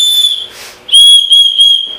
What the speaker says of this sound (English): has a whistle